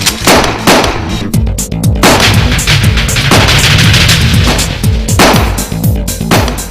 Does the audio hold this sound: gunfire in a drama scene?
yes